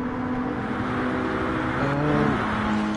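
A McLaren GT2 race car engine in GT Sport at Le Mans, a steady high whine that rises in pitch as it accelerates, loud and close with no talk.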